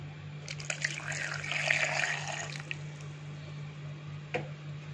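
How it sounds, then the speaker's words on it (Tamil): Milk pours into a mixie blender jar for a mango almond smoothie, a soft, close liquid splashing and gurgling that swells briefly and then settles, with a light clink near the end. "பால் ஊற்றிக்கலாம்."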